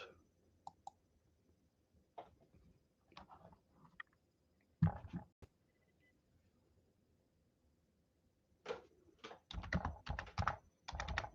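Typing on a computer keyboard: quiet, scattered clicks give way to denser, near bursts of keystrokes with pauses between them.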